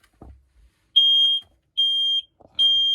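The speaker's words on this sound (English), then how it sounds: "One is the smoke detector." A smoke alarm in a 2018 Bessacarr 584 motorhome is tested: three shrill, loud electronic beeps, each about half a second, separated by short silences, with faint clicks before.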